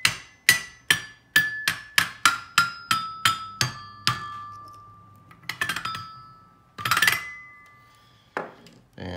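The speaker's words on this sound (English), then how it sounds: "This is a xylophone pull-a-tune toy from 1964." A vintage 1964 Fisher Price wooden pull-a-tune xylophone toy with metal bars is struck note by note, a descending run of bright ringing tones, then a few scattered clinks and chimes.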